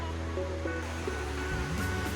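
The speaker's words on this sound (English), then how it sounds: "It's two streams converging." Two streams of water converge near a river crossing on a coastal trail, making a steady, broad rushing roar that is fairly loud and continuous, with no voices.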